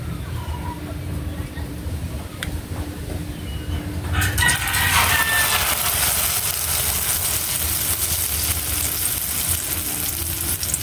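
Food begins frying in hot cooking oil a few seconds in, a loud steady sizzle and crackle that holds to the end, following a quieter stretch with a faint hum and a person talking nearby.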